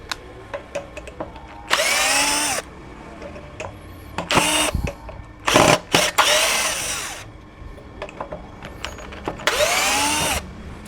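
A Xenon cordless drill set to speed 2 in drilling mode bores into light steel, with several loud whirring bursts of the motor separated by quieter pauses and small clicks.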